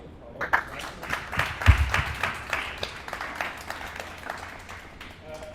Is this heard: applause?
yes